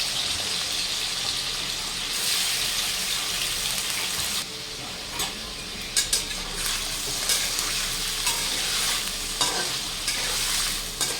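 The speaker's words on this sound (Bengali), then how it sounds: "পনিরগুলো ভেজে নিচ্ছি, একটু লাল করে ভেজে নেবো আর কি।" Paneer cubes frying in a pan, a constant bright sizzle with occasional stirring scrapes and taps, moderately loud and close, no talking.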